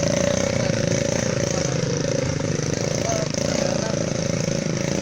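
A motorcycle engine idling and revving on a rough dirt road to an isolated village after an earthquake, its steady close-up putter running throughout with occasional clatter and no clear speech.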